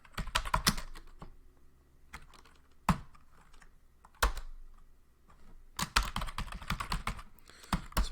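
Someone types a root password on a computer keyboard during a Linux package install, in short bursts of close, crisp key clicks separated by quiet pauses, ending in a denser run of keystrokes.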